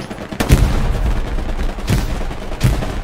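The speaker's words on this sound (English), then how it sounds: "They threw a nade." Explosions and gunfire in the World War II shooter Hell Let Loose, with a heavy blast followed by two more booming bursts over steady background battle noise.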